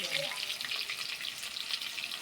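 Food frying in hot oil in a home kitchen, a steady, soft hiss and crackle of sizzling that runs evenly throughout, fairly faint and without talk.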